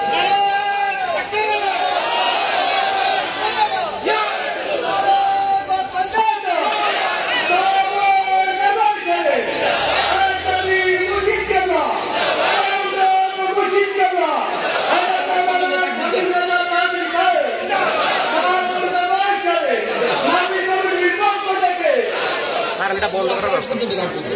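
A large crowd at an open-air religious mahfil chanting takbir in unison, loud, repeated call-and-response bursts about every two seconds over a constant murmur of voices.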